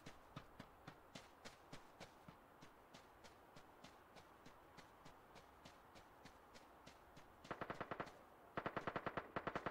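Steady bursts of distant gunfire crack at a regular rhythm in the video game Ring of Elysium, then grow louder and denser near the end as closer automatic fire joins in.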